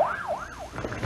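A wailing siren at the start of a Fourth of July parade in Austin, rising and falling in slow sweeps, loud and clear over light street noise.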